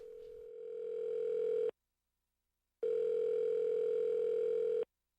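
Telephone dial tone heard during a phone call in the Saints Row video game: a steady, loud, continuous electronic tone that cuts off for about a second, then resumes and stops cleanly. No one speaks.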